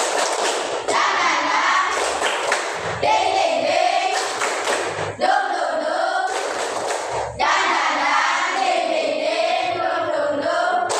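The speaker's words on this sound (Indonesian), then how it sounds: "Tepuk semangat." A classroom of schoolchildren performs a rhythmic spirit clapping routine (tepuk semangat), with loud, close bursts of patterned claps and thumps alongside group chanting voices, pausing briefly between phrases.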